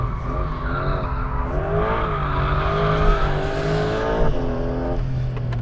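A Porsche 992 Carrera GTS Hybrid slides in second gear, its engine note rising and falling with a loud, sustained tire squeal over several seconds, close and continuous.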